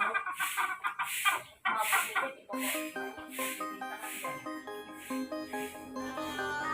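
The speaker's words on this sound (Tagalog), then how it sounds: "Abot dun sa kanila yung manok." Chicks and chickens cluck and squawk close by on the ground in a busy run of calls, with a light jingling tone underneath.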